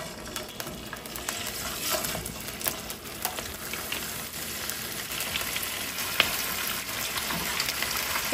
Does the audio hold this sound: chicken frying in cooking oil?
yes